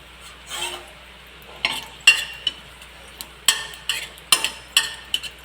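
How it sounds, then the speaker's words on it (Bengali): Dried red chillies fry in mustard oil for lentil khichdi, heard as a quiet sizzle broken by a series of crisp stirring scrapes and clatters in an irregular rhythm, with no voices. "শুকনো লঙ্কাটা এক দু মিনিট ভাজার মধ্যে লাল হয়ে গেল"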